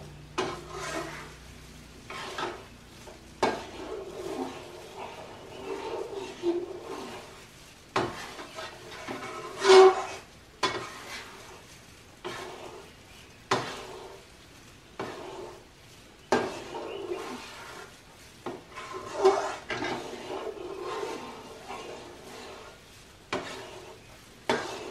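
Mysore pak mixture being stirred in a pan without stopping makes repeated scraping strokes, each a second or two apart, with a thick, gentle sizzle between them over a long, steady stretch.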